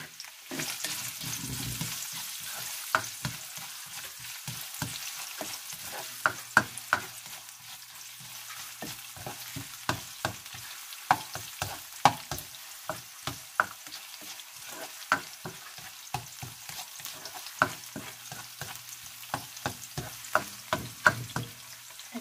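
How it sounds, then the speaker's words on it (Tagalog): Onion hitting hot oil for pancit bihon: a steady, close sizzle with frequent sharp clicks and scrapes from stirring, and no talking. "Sa mainit na mantika, ilalagay na natin yung onion."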